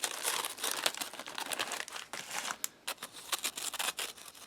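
A plastic wrapper on honey-coated crackers crinkles and crackles up close in quick, irregular bursts as it is pulled open, with no talking.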